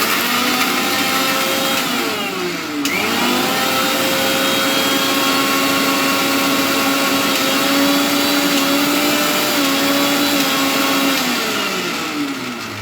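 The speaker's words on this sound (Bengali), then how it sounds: "এটাকে আমি গ্রাইন্ড করে নেব এবার" A mixer grinder whirs loudly while grinding ginger, garlic, chillies and cashews, a steady motor whine that dips briefly near the start, then runs on without a break before easing off at the end.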